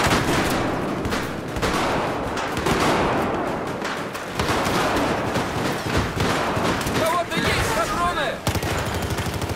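BB guns firing during a team battle, rapid dense popping and rattling bursts that run almost continuously at close range, with excited voices shouting over the shots.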